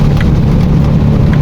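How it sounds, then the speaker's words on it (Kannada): Heavy rain pounds on an auto rickshaw in Bidar, a loud dense constant drumming patter with low rumbling, close and steady throughout, no voices. "ಮಳೆ ಹೊಂಟದಂತ ಇಷ್ಟು ಮಳೆ ಅದ ಇಲ್ಲಿ"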